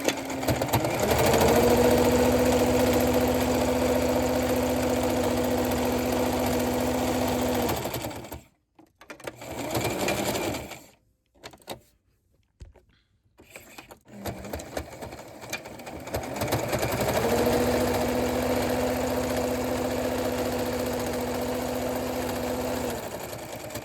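A sewing machine stitches the pocket of a reusable fabric Swiffer duster in a loud, steady motor whir. The whir runs for about eight seconds, breaks into short handling clicks and fabric rustles, then resumes for a long continuous run.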